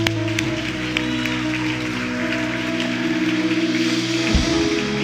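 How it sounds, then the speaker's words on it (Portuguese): A church congregation claps together in praise, a dense rain-like patter of many hands held steady at moderate loudness over sustained music tones, without any voices on top. "Vamos aplaudir a Jesus"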